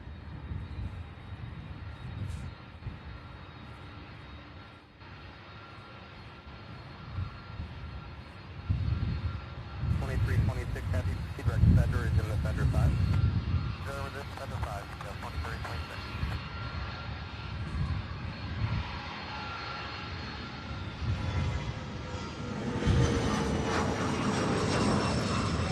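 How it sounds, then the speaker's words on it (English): An MD-11 jet, thirty years old, taxiing or departing at Louisville's SDF airport, its broad engine roar building steadily and swelling louder toward the end, heard from a distance outdoors with no talk. "That MD-11 heading to Orlando, Florida, in a 30-year-old aircraft."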